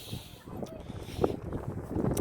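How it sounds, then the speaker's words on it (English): Wind gusts buffet a microphone outdoors near water, giving a low, rumbling roar that swells and fades over a couple of seconds, with faint voices and background sounds mixed beneath it. "It seems like we come outside and it was not windy where we were, but here it seems awful windy."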